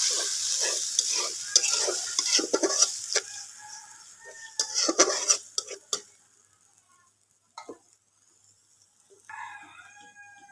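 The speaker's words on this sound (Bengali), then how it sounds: "জল দিয়ে মশলাটা ভালো করে কুচিয়ে নিই" A spice paste is stirred and fried in a pan with a little water for a rohu fish and taro curry, giving steady close scraping and sizzling for about six seconds before it fades to quiet, with a few faint clinks near the end.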